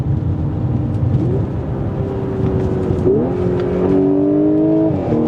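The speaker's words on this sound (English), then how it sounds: "Oh, the crackles of that exhaust" A 2015 Audi S5 B8.5 accelerates in manual mode from a stop, its exhaust note loud and close, rising steadily in pitch with a quick gear change partway through before climbing again.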